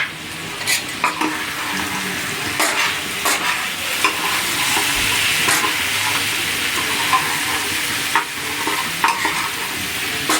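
Peshawari mutton karahi on a tawa is stirred with ground coriander, salt and red chilli, a steady close sizzle broken by repeated scraping and clanking strokes of a utensil against the metal, with no talk.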